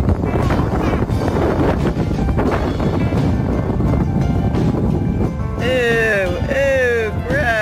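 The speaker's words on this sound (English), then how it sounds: "it's too windy" Strong wind buffets the microphone in a loud, rumbling roar, with voices talking partway through.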